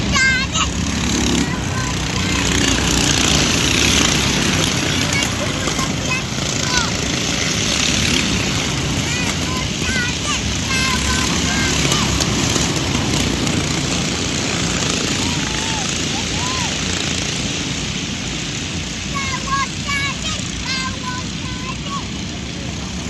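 Stock karts racing around the Buxton Raceway oval on a sunny day, a continuous engine drone with rising and falling whines as karts pass, steady throughout while people talk over it.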